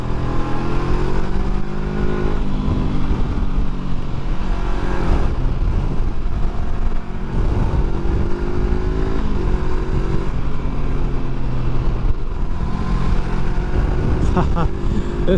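A 2021 Honda CB500X motorcycle accelerating hard on a road, loud rising engine revs climbing through gears in repeated sweeps, with wind rush and a rider talking over it.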